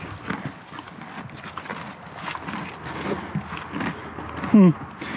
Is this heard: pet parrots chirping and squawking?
no